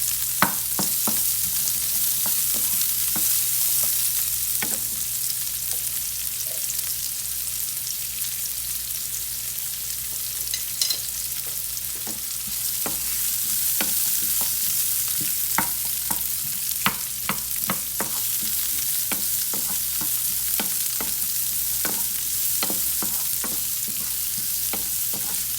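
Onions and other vegetables fry in a pan for a salmon roasted pepper sauce, giving a continuous close sizzle with scattered ticks and scrapes of stirring and no talk.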